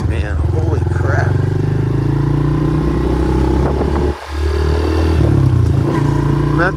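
A small 110cc motorcycle with a quarter-turn throttle is ridden on a cold day, its engine droning steadily and close up the whole time, with a brief dip in revs midway before it pulls on again.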